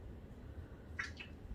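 A quiet, short two-part meow, most likely a human voice imitating a cat in a children's singing lesson, rises briefly over a faint low background hum.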